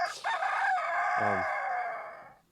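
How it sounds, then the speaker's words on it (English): A white-crested black Polish cockerel crows once, a long, loud, close cock-a-doodle-doo that trails off at the end. "This is my son, Blake Gates, with one of his white-crested black Polish cockerels he just raised this year."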